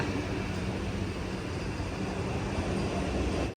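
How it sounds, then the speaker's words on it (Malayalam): Vande Bharat passenger train bound for Kasaragod at Kannur railway station, a steady broadband rumble and rush of rolling stock that stays loud and continuous throughout, with no voices. "ഇവിടെ ഇതാ കാസർഗോഡേക്ക് പോകുന്ന വന്ദേ ഭാരത്"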